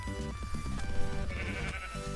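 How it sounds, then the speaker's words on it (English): A Minecraft sheep bleats in a short wavering call over the game's steady background music, heard up close with no talking. "Sheep."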